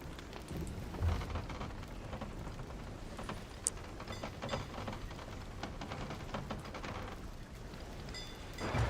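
A steady patter of rain mixes with low thunder rumbles in a Sea of Thieves storm, heard quietly at an even level with a sharper crack near the middle.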